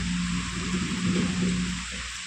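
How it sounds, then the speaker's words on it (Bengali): Light rain falling outside a house beside a road, a soft, steady broadband hiss with a low hum underneath, continuous and fairly close, with no voices. "হালকা হালকা ছোট ছোট বৃষ্টির ছিটটা আমার মুখে এসে পড়ছে"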